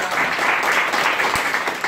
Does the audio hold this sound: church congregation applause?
yes